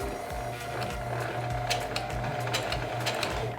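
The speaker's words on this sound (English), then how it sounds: "So continuing sewing." A sewing machine stitches along a fabric sweatband in a steady, rapid, close-up mechanical rhythm that runs the whole time with no voices.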